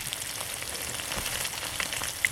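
Cod fish pan frying in hot oil, a steady close sizzle with fine crackling pops running throughout.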